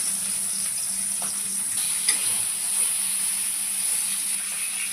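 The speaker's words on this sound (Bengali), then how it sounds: "প্রথমে মাথাটাকে ভেজে নেওয়া হলো।" A small fish head fries in hot oil in a Bengali kitchen, a steady bright sizzle and hiss running continuously with a couple of faint clinks, no voices.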